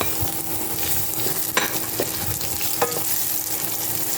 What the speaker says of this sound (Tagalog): maglalagay na tayo ng chopped onions